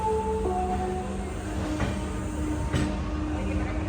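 Vande Bharat express on the Mumbai–Solapur route at a station platform, a steady low rumble of railcars with faint wheel squeals and brief tonal hums, continuous and fairly close.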